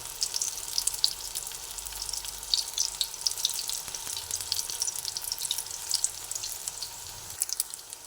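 Spinach fritters (palong shaker bora) frying in hot oil: a continuous, close sizzle with fine crackles and pops throughout, without talk.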